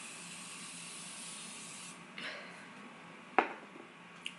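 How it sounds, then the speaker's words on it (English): Morphe setting spray misted onto a face, a soft airy hiss of a couple of short pumps near the microphone, followed by a sharp click, with quiet room noise. "spray my face first with my Morphe setting spray."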